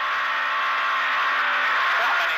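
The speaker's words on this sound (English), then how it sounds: "Lappy is able to push the Skoda to the maximum, sliding through the high-speed bends flat in 4th and 5th gears" Skoda rally car flat out in fourth and fifth gear, sliding through high-speed gravel bends at Rally Hokkaido, a sustained loud engine roar with tyre noise that shifts slightly toward the end.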